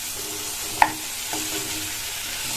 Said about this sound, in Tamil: அதை சேர்த்துட்டு ஸ்டவ்வோட தீயை கொஞ்சம் கூட்டிட்டு இந்த காயை இந்த மசாலாலேயே ஒரு 2 நிமிஷத்துக்கு வதக்கி விட்டுக்கங்க